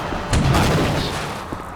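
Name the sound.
video game explosion in TimeShift, sound from Half-Life 1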